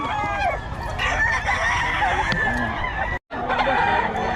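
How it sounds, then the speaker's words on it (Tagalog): A crowd of chickens clucks loudly up close while a rooster crows over them, a busy, continuous farmyard din with brief voices in the background. "Daming manok yan si boss Sapon."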